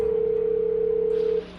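A phone call rings in the space salvage game Hardspace: Shipbreaker, a loud, steady pulsing tone held for over a second before it cuts off, leaving quiet background.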